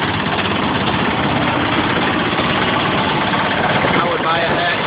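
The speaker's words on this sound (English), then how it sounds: "This is a Westwood versus a diesel wheelhorse." A diesel-powered Wheel Horse garden tractor idles close by, its engine a steady, loud, even chugging rumble that holds without change.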